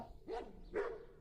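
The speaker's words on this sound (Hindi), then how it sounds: "क्योंकि कुत्ते बहुत ज़्यादा भौंक रहे हैं।" Two distant, fairly faint dog barks, a short pause between them, ring out alone as a background sound effect in a dramatized story reading.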